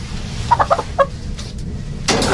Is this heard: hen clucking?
yes